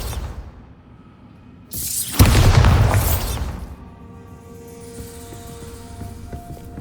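A Bombarda spell explodes in the video game Hogwarts Legacy: one loud, sudden blast with a crackling burst, then a rumble that fades into quiet, humming ambience.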